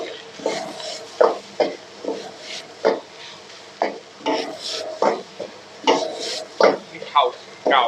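Cooked rice tipped into a pan and stirred for Thai fried rice, a steady run of scraping, clattering spatula strokes in irregular bursts, close and fairly loud, with no voices over it.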